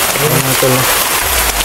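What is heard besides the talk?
heavy rain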